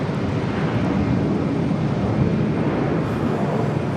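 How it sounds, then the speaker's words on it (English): A Southwest Boeing 737 jet airliner at Charlotte airport gives a sustained, loud engine roar with deep rumbling, steady throughout the few seconds and with no voices over it. "And of course, the 737 of Southwest"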